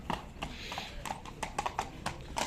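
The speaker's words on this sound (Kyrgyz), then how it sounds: "мына жоон ат экен" Horse hooves clip-clop in a sharp, uneven series of knocks on hard ground at a horse market in Kyrgyzstan, fairly close, with a faint murmur of people behind.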